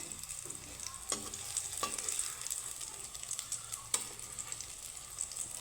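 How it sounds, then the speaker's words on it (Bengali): Soya chunks fry in oil until reddish, giving a steady close sizzle with a few sharp stirring clicks and scrapes scattered through, with no voices. "লাল লাল করে ভেজে আমি তুলে নিব"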